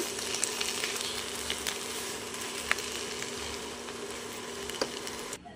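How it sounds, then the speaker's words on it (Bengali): Cabbage fries in a pan with sugar being mixed in, a steady close sizzle with faint scraping and clicks of a spoon against the pan throughout. "ভালো করে চিনিটা বাঁধাকপির সাথে মিশিয়ে নেব।"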